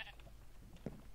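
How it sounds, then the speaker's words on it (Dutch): A sheep bleats once, short and fairly clear, in the Minecraft video game, standing out above a low steady background hum. "ik dacht dat ik een schaap hoorde hierboven. Maar dat is gewoon deze schaap hier beneden"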